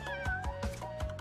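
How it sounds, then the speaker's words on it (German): Repeated cat-like meows from a tiger in the Crash Bandicoot 3 video game, several short close calls in quick succession with no talking. "Ich wusste gar nicht, dass ein Tiger miaut."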